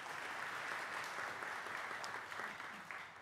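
An audience claps for a scholarship recipient at a charitable foundation award event, a soft, even wash of applause heard at a slight distance and sustained throughout.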